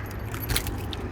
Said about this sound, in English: We do have 2 keys as well for this one.